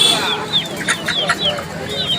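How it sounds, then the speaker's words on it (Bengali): Chickens cluck at a busy poultry market in Tongi, Bangladesh, where ducks and several breeds of hen are also for sale. Short, repeated clucks and squawks come from close by over a low background hubbub. "চলেন দেখাই কীরকম হাঁস মুরগি উঠলো আজ হাটে।"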